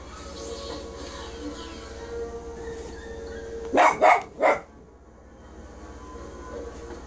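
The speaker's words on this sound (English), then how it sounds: "Scoop, stop barking. No barking." Dog barking indoors during a Lego Star Wars: The Complete Saga gaming session: three loud, close barks in quick succession over steady background noise from the game.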